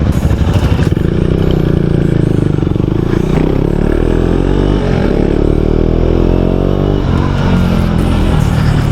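Royal Enfield Interceptor 650 motorcycle riding on a road in Sikkim, loud close twin-cylinder engine thrum with rising and falling revs through gear changes, no talk.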